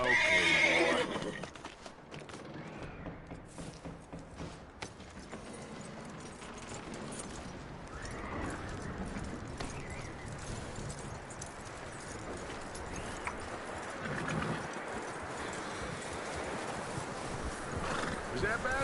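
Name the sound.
horse neighing and hooves in video game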